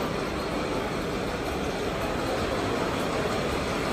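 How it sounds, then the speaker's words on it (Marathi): Panvel-bound local train rolling into the station, a steady broadband rumble of wheels and carriages at moderate distance, continuous and even throughout without voices. "आता इथे येईल पनवेल ट्रेन."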